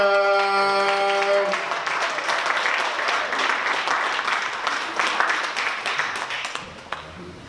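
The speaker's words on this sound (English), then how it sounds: "Put your hands together, Mr. Chris Hartman." Applause at a comedy bootcamp graduation show: a short musical sting with sustained tones opens, then the crowd claps and cheers steadily, loud and full, before gradually thinning out at the end.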